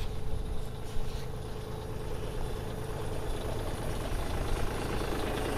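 A tractor engine idles steadily beside a log-skidding winch, a continuous low rumble close by with no talk.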